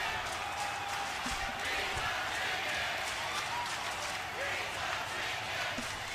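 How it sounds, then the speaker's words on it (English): Wrestling crowd at a DIE World Heavyweight Championship match with Anthony Mansfield, a steady loud roar of voices with a poultry chant rising among them, continuous throughout with no clear breaks. "some of the crowd are chanting a poultry chant at our DIE World Heavyweight Champion"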